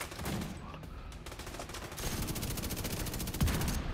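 Rapid automatic gunfire in a shooter video game, dense sustained bursts that grow heavier and more continuous midway, loud and close, with no voices over it.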